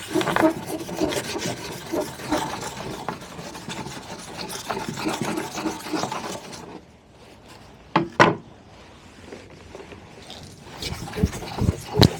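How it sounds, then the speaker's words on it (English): Scrubbing panels from a 1983 Honda Stream / Gyro scooter under restoration, a steady close rasping rub for several seconds, then a pause and a few short sharp scrapes and knocks. "And just give it a good scrub."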